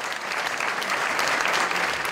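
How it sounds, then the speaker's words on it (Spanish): A large audience claps in dense, sustained applause, a steady wash of many hands beating together with no pause or voices standing out. "El nutrido público asistente materializa su afecto y admiración en un largo aplauso"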